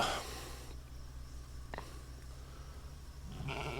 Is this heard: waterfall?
no